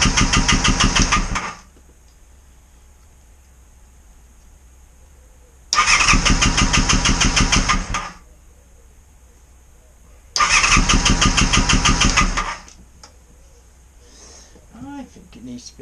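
A Honda VFR400 motorcycle engine cranks on the starter in three loud, close bursts of a couple of seconds each, with quiet pauses between, and never settles into a steady idle.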